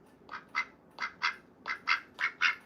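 Olivia Gray, a pet duck, quacks in paired bursts, four doublets in a steady rhythm, close and moderately loud with no voices over them.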